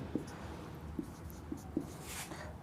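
A pen or marker writes on a board with a few short scratchy strokes, faint and close, spaced out with quiet gaps between them.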